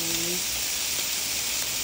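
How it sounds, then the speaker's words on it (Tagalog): Pork frying with garlic in a hot pan for menudo, a steady loud sizzle and hiss running unbroken throughout, close up, with no talking. "Niluluto ko na siya with garlic."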